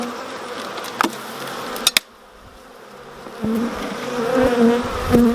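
Honey bees buzz steadily inside an opened brood box of a UK beehive, a low droning hum that builds toward the end, with a few brief knocks and handling clicks early on.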